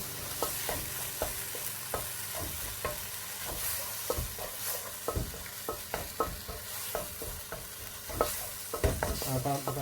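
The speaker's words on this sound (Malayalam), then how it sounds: "അതിൻ്റെ പച്ച ഒന്ന് മാറുന്നതിന് വരെ ഒന്ന് ഇളക്കി കൊടുക്കുക" Tuna and tomato sauce is stirred in a pan until the raw smell cooks off: steady, close spatula scrapes and knocks come in a loose rhythm over a continuous low sizzle, with no voices.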